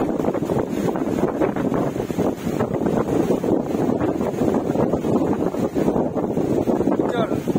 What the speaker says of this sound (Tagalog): Napakalas ng hangin.